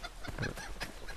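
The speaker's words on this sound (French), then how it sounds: "Une poule, est-ce que je peux la tuer?" A chicken in the Assassin's Creed 3 video game clucks briefly, a few short, fairly faint calls over steady game ambience with no talk.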